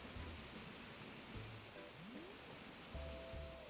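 A waterfall in the video game Animal Crossing gives a soft, constant rushing wash of water, faint and steady, with a few quiet game tones and chimes over it and no voices.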